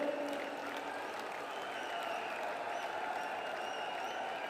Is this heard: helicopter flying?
no